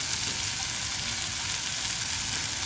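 Green peas cook in a pan, giving off a steady, even frying sizzle up close as their moisture evaporates, with no voices over it.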